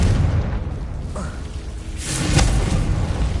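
A Confringo explosion spell is cast in Hogwarts Legacy, a dense, loud booming burst with a rushing whoosh and a continuous low rumble underneath.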